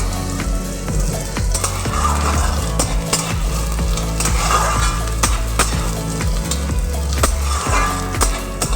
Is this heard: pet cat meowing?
no